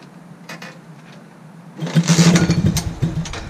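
A rebuilt super pocket bike engine is pulled over with a few faint tugs, then fires and revs in a loud, rapid buzzing burst before settling into a rough idle.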